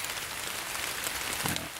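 Heavy rain falls steadily in the woods in a constant hiss, with drops pattering nearby and a brief low thud near the end.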